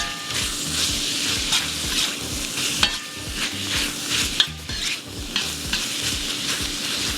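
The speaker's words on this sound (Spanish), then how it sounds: "Técnica de freír moviendo." Chicken stir-fried in a pan in a Mexico City kitchen: loud continuous sizzle with rhythmic scraping and tossing of the spatula, punctuated by a couple of sharp clanks, no talk.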